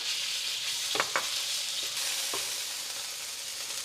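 Marinated lean pork coated in corn flour hits a hot wok and sizzles steadily, a bright hiss with a few clacks of stirring.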